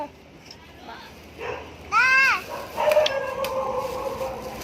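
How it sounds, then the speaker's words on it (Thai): A dog barks and yelps a few times, sharp and fairly close, mixed with people talking and a voice in the background. "หมาเห่า"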